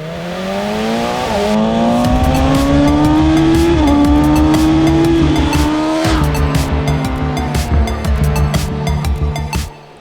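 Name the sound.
BMW M 1000 R motorcycle engine revving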